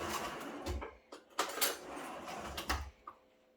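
A spoon clinks and scrapes against a bowl of vegan no-oil cauliflower fried rice in a few soft, separate knocks and taps, close and fairly quiet, with no talking.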